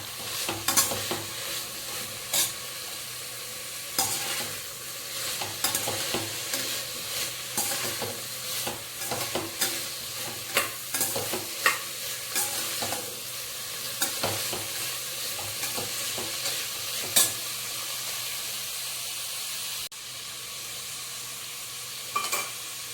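Ingredients for a mint pulao fry in a pan ahead of the mint paste, a continuous close sizzle broken by frequent stirring clicks and scrapes of a spoon against the pan.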